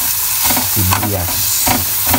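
Onions sauté in a pan for a creamy spicy ground pork dish, sizzling loudly and close, with bursts of stirring and a voice partly over the frying.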